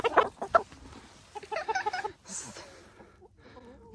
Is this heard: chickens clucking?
yes